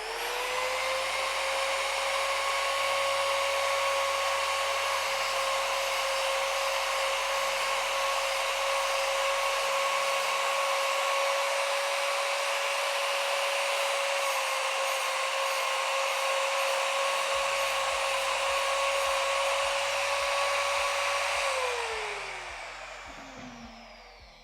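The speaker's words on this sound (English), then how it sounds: "while I'm grinding, I want to be gently turning the tungsten, not applying a great deal of pressure on the cutting wheel" A tungsten grinder spins with a steady, loud high whine as a tungsten electrode is ground to a point, sustained for about twenty seconds before winding down and falling in pitch at the end.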